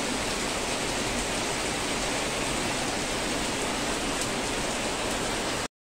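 Steady rain falls outside onto potted plants on a balcony, a dense, even hiss of drops that holds unchanged and fills the whole stretch without talk before cutting off abruptly.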